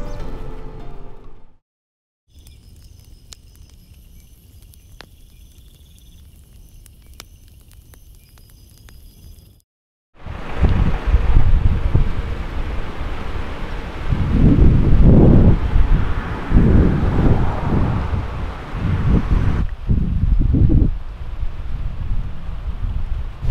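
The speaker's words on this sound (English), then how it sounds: "It's a little windy out here, excuse the wind" Wind blowing hard at a roadside marsh near Cedar Key, Florida, with a quieter tonal passage first, then a loud, gusty roar buffeting the microphone up close for the last half.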